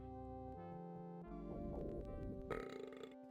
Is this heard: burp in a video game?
yes